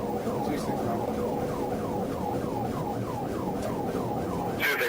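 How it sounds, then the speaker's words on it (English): Police car emergency siren during a traffic stop, a rapid repeating yelp wail that rises and falls in quick cycles, loud and steady over road noise. "Trooper activated emergency lights and siren to initiate a stop."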